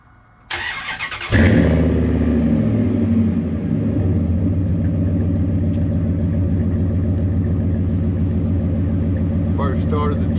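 A 2003 Dodge Ram 1500 with a 5.7 liter Hemi and about 390,000 miles cranks briefly on a cold start, then catches with a loud roar. It settles into a steady rumbling idle, close up, with a faint voice near the end.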